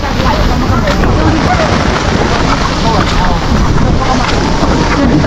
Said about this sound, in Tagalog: Napaka lakas ng alon ngayon